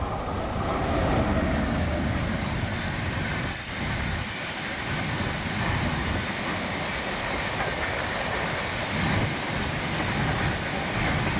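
The Kerala Sampark Kranti express, on its Kochuveli to Chandigarh run, rolls along with a steady, loud rumble of wheels on rail and a faint rhythmic clatter, heard from inside the coach without talk.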